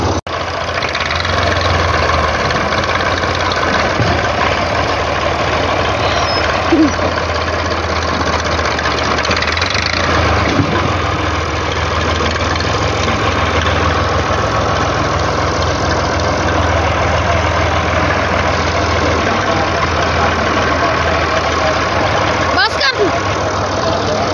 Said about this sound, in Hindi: जो ट्रैक्टर स्टार्ट करिए स्टार्ट करते सारी रेस नहीं देनी